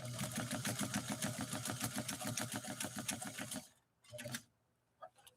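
A New Home Model 444 sewing machine stitches through cotton with a Schmetz size 116 leather needle, a fast steady rhythmic clatter lasting several seconds, then stopping, followed by a couple of brief short bursts.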